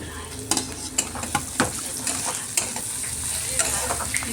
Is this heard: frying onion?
yes